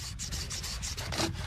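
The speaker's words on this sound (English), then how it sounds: "let's give this bow drill a red hot crack." A wooden bow drill spindle rubs back and forth against a wooden board to start a fire, a rhythmic, close scraping and grinding with regular strokes about every fifth of a second, no talking.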